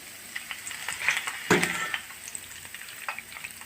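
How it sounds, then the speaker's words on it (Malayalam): Curry leaves dropped into hot sesame oil while making a kozhuva fish pickle burst into a sudden loud sizzle, which then settles into steady crackling frying close by, with no voices. "നമുക്കതിലേക്ക് കുറച്ച് കറിവേപ്പില ഇട്ട് കൊടുക്കാം."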